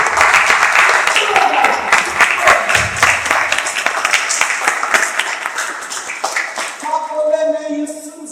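A church audience at a Sunday prayer meeting claps together in loud, dense applause, steady for several seconds before tapering, with voices mixed in and a brief musical tone near the end.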